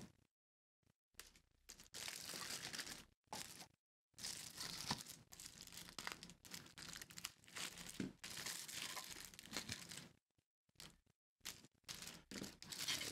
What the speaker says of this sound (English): And then we'll take this plastic off of here.